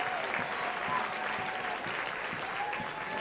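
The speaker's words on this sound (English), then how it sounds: "Crowd certainly showing their appreciation for Corey Brown and the shift he's put in" Stadium crowd applauding steadily as a footballer cramping in both legs leaves the pitch during a cup match, broad continuous clapping throughout.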